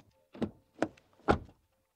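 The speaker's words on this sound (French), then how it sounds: "Les sons de fermeture des portes, ça sonne bien." Doors of a 2026 Škoda Superb Sportline shut one after another, three solid, well-damped thunks spaced about half a second apart, close and isolated against quiet.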